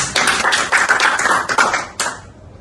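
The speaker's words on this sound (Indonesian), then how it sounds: "Kita boleh tepuk tangan untuk mereka semua." A small podcast studio audience clapping for three guests, a brief burst of close, uneven hand claps that trails off into quiet after a couple of seconds.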